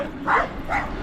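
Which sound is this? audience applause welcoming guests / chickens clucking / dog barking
dog barking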